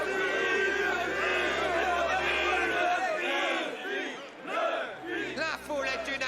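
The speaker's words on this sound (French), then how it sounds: "La foule est unanime, tout le monde soutient ardemment Luffy." A dense crowd in a One Piece video game roars and shouts in support of Luffy, a loud, sustained mass of voices that swells and dips near the end.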